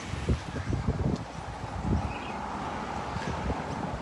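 Wind buffeting a microphone on a walk around Wynnum Manly in Brisbane, low rumbling gusts that swell and ease continuously, close and fairly loud, with no voice.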